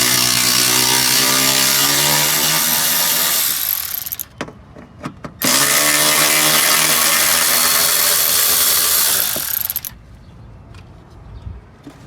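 A power tool removing 10 mm bolts from the power steering tensioner and idler on a 2011-or-later Toyota Camry, two loud, close sustained whirring bursts separated by short clicks and a pause.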